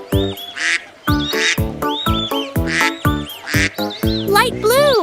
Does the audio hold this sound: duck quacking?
yes